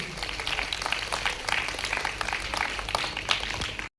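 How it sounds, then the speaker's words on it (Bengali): Steady applause and clapping from an audience at a state-level school drama prize distribution ceremony, a dense continuous patter at moderate volume that stops abruptly. "প্লিজ আরো একবার জোরদার করতালি হোক"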